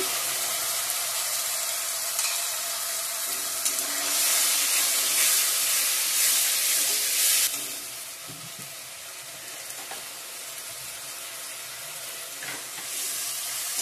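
A spice paste of tomato, green chilli and garlic hits browned chopped onions in a hot pan, sending up a loud, steady sizzle and hiss that eases partway through, with light stirring and no talk.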